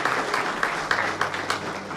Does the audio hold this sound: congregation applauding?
yes